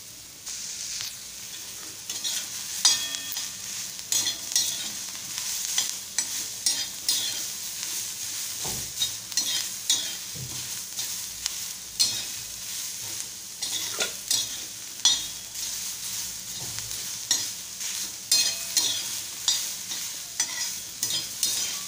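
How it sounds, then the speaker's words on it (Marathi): Onion fries in oil until reddish, a continuous sizzle broken by frequent rhythmic stirring scrapes of a spoon in the pan, close and moderately loud throughout. "थोडं तेल घालत आहे आणि कांदा लालसर होईपर्यंत आपण भाजून घ्यायचा आहे"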